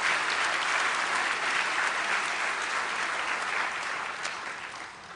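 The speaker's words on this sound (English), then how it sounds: "Let's give them a round of special applause" A university graduation ceremony audience for the Faculty of Health at Gqeberha gives sustained applause, a dense, even roar of many hands clapping that fades slightly toward the end.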